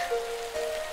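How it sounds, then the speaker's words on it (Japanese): Rain falling outside in a scene from the video game Sword Art Online Alicization Lycoris: a steady, soft hiss of rainfall with a faint sustained tone running underneath, brief and continuous. "まだ外は雨が降っているな"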